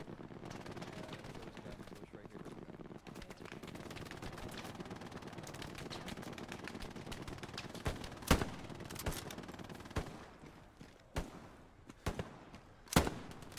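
Machine-gun fire in the shooter Hell Let Loose, a dense distant rattle of gunfire with several sharper, louder shots near the end, no talking over it.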